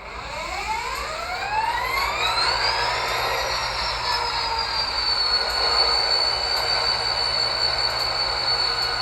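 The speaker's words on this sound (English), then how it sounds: "Here's function 8 to start up the prime mover." A Rapido GP40 model locomotive with LokSound v5 sound starts its prime mover: a rising mechanical whine climbs steadily over about three seconds, then settles into a sustained steady drone with a high tonal hum, alone and fairly loud.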